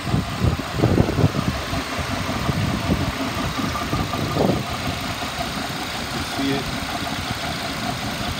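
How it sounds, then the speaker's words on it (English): A 2007 Ford Ranger's 2.3-liter four-cylinder engine idles steadily with a low, even rumble and a slight vibration, close and moderately loud, with a few throbbing pulses early on. "The motor sounds good. It's got a slight vibration on idle."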